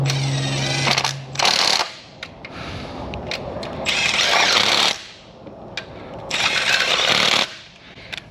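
A power tool drives 13 mm bolts on an engine mount in a repair shop, giving three loud, sustained rattling bursts of about a second or more each, separated by quieter gaps with small clicks and handling noise.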